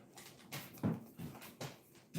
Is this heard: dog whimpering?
yes